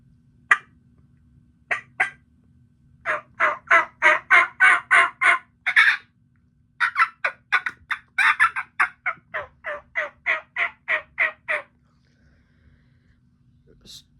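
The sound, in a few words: turkey call being played, medium volume hunting call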